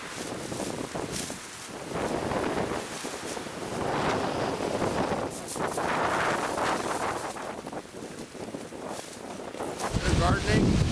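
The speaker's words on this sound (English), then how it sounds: "When we covered this up, the wind was blowing hard" Strong winter wind blows hard over garden cold frames after a cold front, a steady loud roaring gust with broadband rush and microphone buffeting throughout, swelling slightly near the end.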